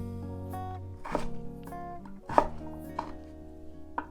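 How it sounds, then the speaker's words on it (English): A knife chopping sweet potatoes into small dice on a board, several crisp, close chops landing in an uneven rhythm over a faint background hum. "I'm gonna make my next cuts a little smaller."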